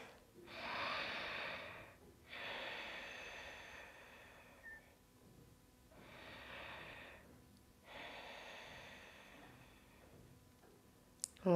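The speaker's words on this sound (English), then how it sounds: "Deep breath." A person breathes deeply while holding a yoga bow pose, four long audible inhale and exhale cycles close to the microphone with short quiet pauses between them and a click at the end.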